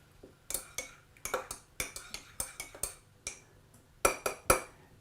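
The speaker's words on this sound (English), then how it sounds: "give it a stir" Metal spoon clinking against the inside of a mug while stirring tea, a series of sharp, bright taps in irregular bursts, close and clear with no talk.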